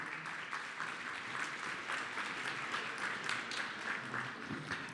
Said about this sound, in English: Give a round of applause for these fine folks up here